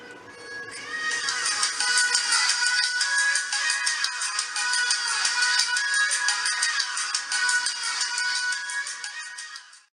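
Loud, bright music plays continuously from a small Bluetooth speaker built into a hoverboard, sounding thin and tinny, with no talking over it.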